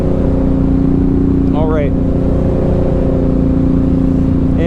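A 2007 Suzuki M109R motorcycle with a loud aftermarket exhaust rumbles close and steady, a deep throbbing idle that fills the space while a rider briefly speaks over it.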